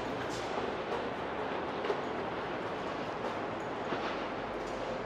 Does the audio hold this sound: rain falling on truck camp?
no